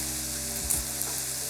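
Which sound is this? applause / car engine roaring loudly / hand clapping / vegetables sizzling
vegetables sizzling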